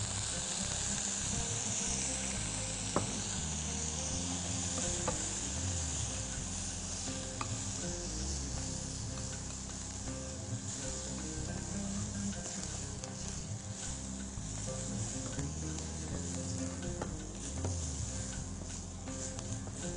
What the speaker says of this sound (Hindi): और फिर ऊपर से 2 टेबलस्पून सफेद सिरके के आप पैन में डाल दें।